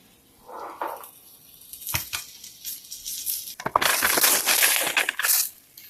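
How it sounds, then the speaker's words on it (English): A knife slices through a low-carb steak and egg pizza with crunchy, crackling cuts in bursts, loud and close, with pauses between strokes and no talk. "You can cut it into slices like a pie."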